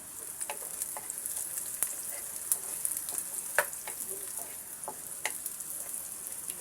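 Finely chopped onion and garlic fry toward brown in a pan: a soft, even sizzle close by, punctuated by light spatula clicks and scrapes at irregular intervals.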